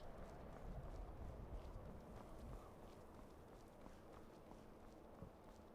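Horse hooves clip-clop in a steady walking rhythm in the video game Skyrim, continuous and moderately close, with no talking over them.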